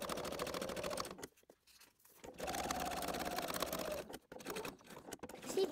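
A sewing machine stitches fabric for a zipped, lined pouch with a steady, fast whirring hum in close bursts, stopping briefly twice, then revving again, quiet overall and with no talking.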